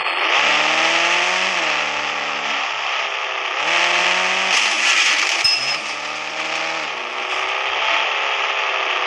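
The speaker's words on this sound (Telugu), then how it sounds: "చూడండి కార్ని స్టార్ట్లో పెట్టారు" A video game car engine drones loudly and steadily throughout, its pitch stepping up and dropping back in several revving surges, with no talk over it.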